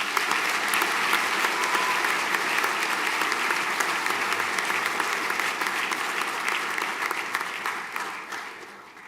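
Sustained applause from a school audience at a senior prizegiving ceremony, a dense even wash of many hands clapping at moderate distance that holds steady and then tapers off near the end.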